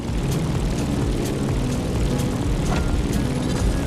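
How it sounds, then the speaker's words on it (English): A propeller airplane in The Crew Motorfest descends toward landing at Honolulu, its engine a loud, continuous droning roar that stays steady and close throughout, with no voices. "Let's start our descent and get ready for the landing."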